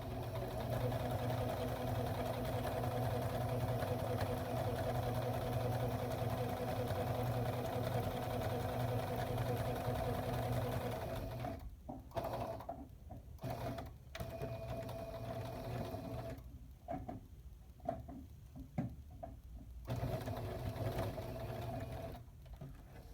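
A domestic sewing machine running a straight topstitch seam on a French seam, a steady close whirring hum for about eleven seconds, then shorter stop-and-start bursts with brief pauses before resuming.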